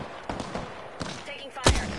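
Rapid gunfire rattles in the Apex Legends battle royale game, scattered bursts and single shots popping at mid distance, ending in one louder close shot, with game voice chatter mixed in.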